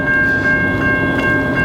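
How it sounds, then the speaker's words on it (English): Amtrak Wolverine passenger train departing from Pontiac, Michigan: a steady, loud rumble of rolling stock with a sustained high tone throughout, with no voices. "This train will be departing and"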